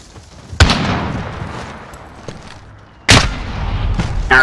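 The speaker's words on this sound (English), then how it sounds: "It's an airstrike," Two loud, close explosions from an airstrike in a first-person shooter game, each sharp blast followed by a long rumbling decay, with faint scattered gunfire between them.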